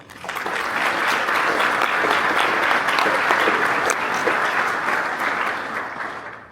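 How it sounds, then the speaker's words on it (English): An audience at a Space Canada event gives a big round of applause, dense clapping that swells quickly, holds steady and loud for several seconds, then starts to fade at the end. "So please join me in a big round of applause for the whole Space Canada team."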